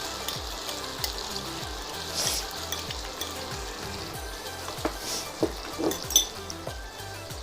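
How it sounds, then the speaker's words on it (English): A spoon drops with a short metallic clink during stovetop cooking of Kung Pao chicken with sauce. It rings out once over a steady background sizzle of frying. "I think my spoon just fell."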